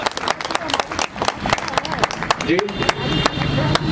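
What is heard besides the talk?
audience applause, clapping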